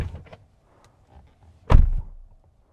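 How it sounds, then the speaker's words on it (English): A single heavy, frameless-window car door on an XPENG G6 electric SUV shuts with a solid, close thunk after some quiet handling noises. "Oh, nice door closing sound."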